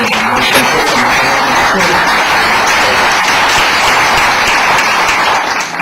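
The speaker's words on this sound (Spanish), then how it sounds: "Ha llegado don Francisco Di Canseco, que merece un aplauso." Loud, sustained audience applause greeting an arriving guest at a national women's congress, continuous dense clapping filling the room with crowd murmur underneath.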